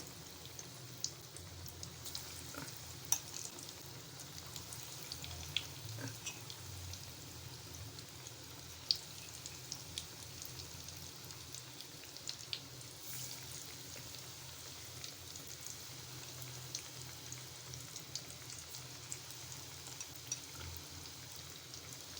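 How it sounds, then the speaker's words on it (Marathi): Batter-dipped okra fritters (bhendi bhaji) deep-frying in hot oil, a steady soft crackling sizzle with fine bubbling pops running the whole time, moderately faint and without talk. "आता आपण पिठात बुडून ठेवलेली भेंडी अशी आपण तेलात तळून घेणार आहोत"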